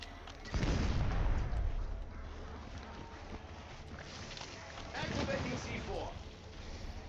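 A C4 charge blows up in a video game with a loud, deep blast early on, followed by a rumbling decay and a second, lighter rumble, while a player talks.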